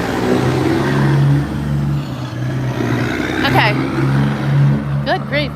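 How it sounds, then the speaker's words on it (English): Heavy trucks rumble along a small-town main street in Kennett Square, Pennsylvania, a steady low engine drone passing close by with a few higher whines and squeaks cutting through near the end. "the amount of huge trucks going down this street is surprising"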